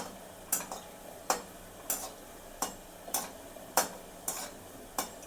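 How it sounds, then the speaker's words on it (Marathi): Four or five gulab jamun being turned in a pan over low heat: a series of sharp, evenly spaced scraping clicks about every half-second to second over a quiet background, close by. "असे 4-5 गुलाबजाम घेऊन असे भाजून घ्यायचे."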